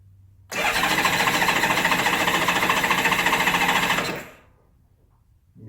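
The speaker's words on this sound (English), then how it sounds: "Okay, let's crank her over." A Honda GL1500 motorcycle engine cranks over for about three and a half seconds with a fast, even starter churn after a carburetor install, choke on, without firing, then stops abruptly; loud and close.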